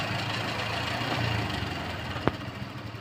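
A Honda Vario 125 scooter engine idles steadily at a low, even hum, fairly quiet and close, with one sharp click near the end.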